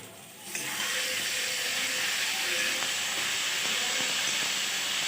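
Ginger, garlic and dried chilli paste dropped into a hot pan, bursting into a loud, sudden sizzle that holds as a steady close hiss with faint crackles.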